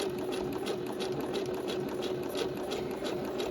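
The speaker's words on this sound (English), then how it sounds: "So we're going to sew down along 5/8." Sewing machine running a straight 5/8 seam on fabric, a continuous fast mechanical whirring hum with a rapid needle rhythm, close and steady throughout with no voices.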